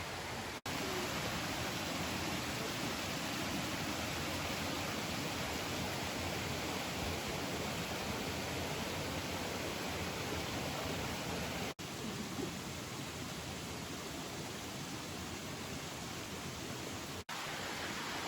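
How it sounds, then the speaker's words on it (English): Steady, loud rushing of Rose River Falls in Shenandoah National Park, a continuous broadband roar of falling water filling the whole stretch with no other sounds. "the falls are, the water's running pretty good. You can hear it, it's beautiful."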